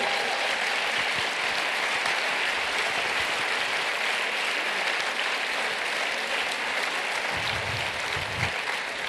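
Steady, dense applause from a conference audience welcoming a journalist and writer named as sponsor at a CNAEMO event, sustained and even throughout with no voices over it.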